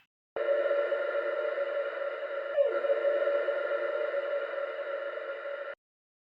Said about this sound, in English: So if I turn the reverb up,